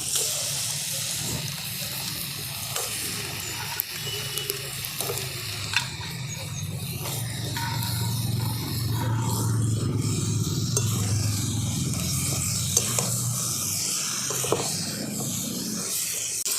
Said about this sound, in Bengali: মাংসটা দিয়ে আমি খুব ভালো করে মশলার সঙ্গে মিশিয়ে নিচ্ছি